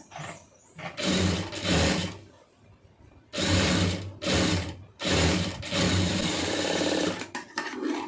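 A sewing machine stitches along the folded border of a blouse in several loud, close, rattling runs broken by brief pauses, with mechanical clicks between bursts.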